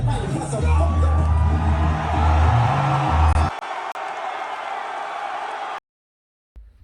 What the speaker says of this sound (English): did y'all hear that crowd?